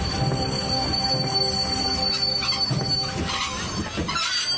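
A cartoon train pulls into a station, its wheels squealing in long sustained tones over rumbling rail clatter, loud and close, with brief bursts of hiss near the end.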